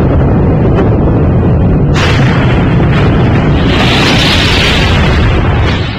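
Atomic bomb blast and shockwave: a loud, continuous roaring rumble fills the whole clip, with a sharp surge of crackling, hissing blast noise at about two seconds that swells again near the end. No speech.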